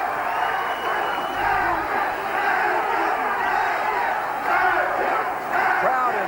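A boxing crowd roars and yells continuously for hometown fighter Cliff Thomas during the final round of a 1983 bout, a dense, loud wall of cheering with swelling shouts.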